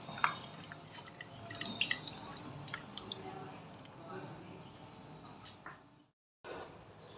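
Water sloshing and dripping as banana stem is rinsed by hand in salt water, with soft splashes and a brief silent gap near the end.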